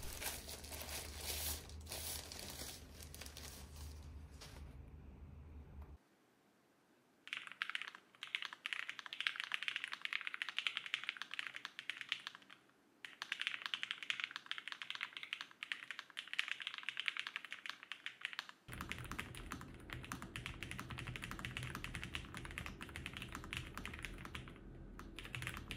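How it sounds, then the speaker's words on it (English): Typing on a Lofree Flow Lite mechanical keyboard, a dense run of soft clacking keystrokes heard up close and alone, with brief pauses between bursts and a quieter stretch at the start and end. "I know that you're curious how this keyboard sounds, so let's start with the typing sound test"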